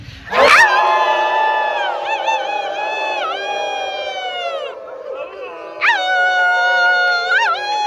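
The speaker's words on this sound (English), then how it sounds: "we needed to howl tonight" Crowd at an outdoor wall reveal howling together like wolves, a long swelling chorus of many voices that fades and then surges again with fresh howls, loud and close.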